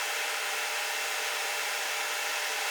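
Hot air rework station blowing at 350 degrees onto an iPhone 6s logic board to remove a chip, a steady, even airflow hiss throughout, close and moderately loud, with no talk.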